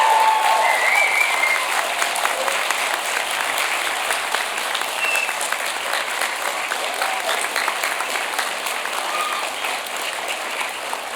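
Graduates at a spring convocation ceremony give a sustained round of applause for family, friends and faculty, a dense steady clapping from a large crowd lasting throughout without letting up.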